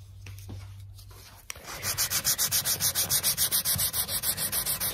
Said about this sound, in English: So I'm gonna sand the finish all, you know, all around this piece here because it was damaged